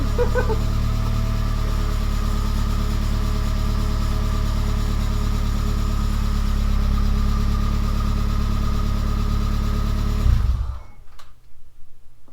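A 2003 Chevrolet Tracker in 4 low spins a tire, its engine roaring loud and steady at high revs for about ten seconds before cutting off abruptly into quieter rumbling.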